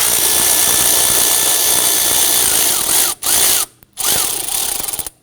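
Power tool with a socket spinning loose a nut on the intake manifold of a 2011-2015 Kia Sorento, a loud steady whir running for about three seconds, then two short bursts after brief pauses.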